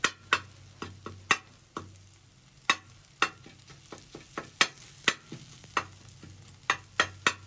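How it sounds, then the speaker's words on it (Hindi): A metal spoon held upright chops and stirs fish in a frying pan: sharp, irregular clacks and taps land roughly every half second over a low frying sizzle, close and with no voices. "आप इस तरह खड़ा चम्मच करके मछली को कटाकट करेंगे"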